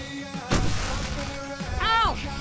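Gunshots in the video game Alan Wake Remastered on Nightmare difficulty: one sharp, loud blast near the start, then a second burst, with a short voiced cry near the end.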